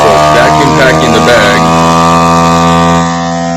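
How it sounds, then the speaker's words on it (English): A vacuum sealer hums steadily as it seals a bag of salmon, a loud, even mechanical drone with a voice talking over the start before the motor note drops slightly near the end. "Took all the air out, and now it's sealing."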